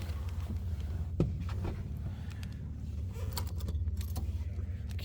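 A bunch of keys jangles in the ignition of a 1950 Mercury six-passenger coupe street rod, small metallic clinks scattered across a few seconds over a low steady hum, close by and fairly quiet.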